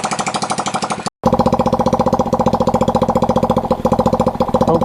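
Small Yamoto 70cc ATV engine idling and warming up, a steady rapid popping putter close by that cuts out briefly near the start and then resumes at an even, slightly uneven idle.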